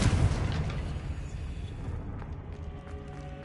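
A Confringo fire spell in Hogwarts Legacy bursts in a heavy, booming explosion at the start, its rumble fading over the next few seconds into quieter game ambience.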